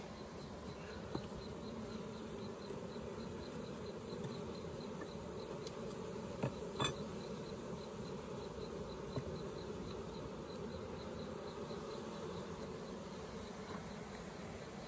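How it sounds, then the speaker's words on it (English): Dense, continuous buzzing of a honeybee swarm being transferred into a Layens gable roof hive, droning steadily like a car engine for the whole stretch, with a few faint clicks and taps. "the swarm right now, or the colony, sounds like a car engine"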